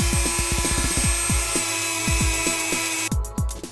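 Dremel rotary tool whining at high speed while cleaning parts during a BMW R100RS motorbike restoration, the tone surging and dipping in repeated bursts as it bears on the metal, close and loud.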